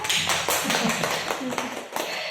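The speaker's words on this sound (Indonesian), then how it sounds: "Lalu boleh tepuk tangan dulu dong." A crowd applauds continuously, many hands clapping together in a dense, steady patter that holds through the whole stretch.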